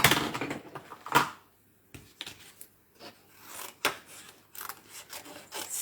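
Paper offcuts being trimmed during card making with a stamped flower bundle, heard as a series of close, dry scraping snips and rasps separated by short quiet gaps, with no talking.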